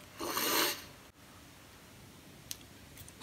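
A plastic mounting screw on the underside of a tripod is turned, making a brief, close rasping rub followed by a few small clicks in a quiet room.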